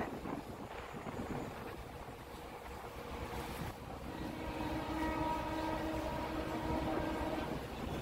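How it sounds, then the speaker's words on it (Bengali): A Kolkata Circular Railway train runs along the Hooghly riverbank, heard from a ferry in mid-river between Howrah and Babughat: a low, steady rolling rumble that swells and grows more tonal in the second half, over continuous boat and wind noise. "সার্কুলার রেল যাবে।"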